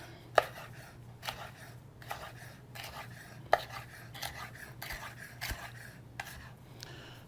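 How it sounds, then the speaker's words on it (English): A knife chops a long pepper strip into medium pieces on a cutting board, with a series of irregular close taps and thuds, a few sharper strikes among softer ones, fairly quiet and without speech. "I'll take my long pepper strip here, and I'll cut some medium-sized pieces"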